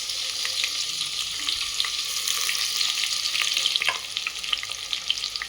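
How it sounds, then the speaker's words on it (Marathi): Bay leaf, garlic and ginger sizzle and crackle in hot oil in a pan as the base for a mutton paya curry, a steady bright frying hiss with occasional stirring scrapes, close and alone. "ह्याला भाजू द्यायचं, मस्त तेलामध्ये फोडणी होऊ द्यायची, वास येईपर्यंत।"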